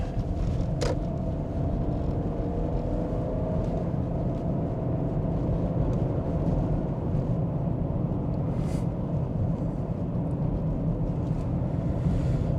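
A 2001 Toyota Crown Estate wagon with four-wheel drive cruises steadily down a road, its engine and tire rumble forming a continuous, even drone from inside the cabin with no talking.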